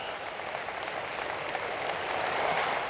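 An audience at a political event in Pakistan applauds a daughter of Balochistan, producing a dense, steady wash of clapping heard at a moderate distance without pauses.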